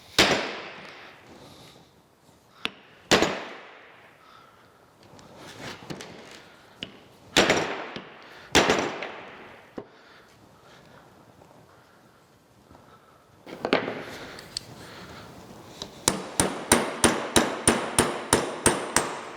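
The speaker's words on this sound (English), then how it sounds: "Just taking a little chisel here and hitting in between that little crack to get it to separate apart" A small chisel is struck into a crack on a rusty Bison six-jaw lathe chuck, giving scattered sharp metallic hits with quiet gaps, then a fast run of a dozen rapid taps at the end, close and loud.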